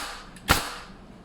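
A single sharp pneumatic shot from a Hitachi Metabo NR65AK2 nail gun being test fired after its magazine O-rings were replaced, one close, loud crack with a brief hiss before it.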